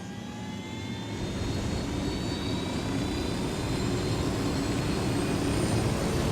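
A helicopter flies in the Ghost Recon Wildlands video game, giving a steady, loud engine and rotor roar that swells slightly and then holds on without any talk.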